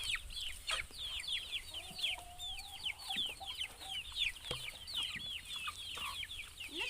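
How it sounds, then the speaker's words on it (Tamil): Chickens hatched in an incubator chirp and cluck steadily at close range, a busy flock of overlapping calls with no talking. "நம்ம இன்குபேட்டரில் பொறிச்ச கோழி எப்படி நல்ல சைஸாக இருக்குது பாருங்கள்"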